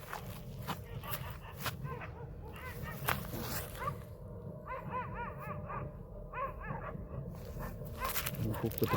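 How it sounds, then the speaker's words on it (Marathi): Many dogs bark at night in a forest around a solo campsite, with repeated yelping barks from several animals at a middle distance, some overlapping, over steady background noise and rustling. "खूप कुत्र्यांचा आवाज येतोय"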